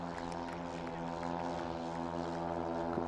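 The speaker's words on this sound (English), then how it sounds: "You can hear a helicopter go past." A small plane or helicopter passes over an outdoor cricket ground, a steady droning engine hum with strong tonal harmonics, distant and continuous with no talk.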